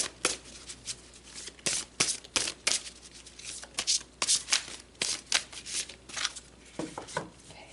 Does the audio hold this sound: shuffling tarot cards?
yes